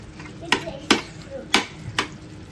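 A spoon stirring bread halwa in a pan: four short, sharp scraping strokes at uneven intervals, close and fairly quiet over a low background.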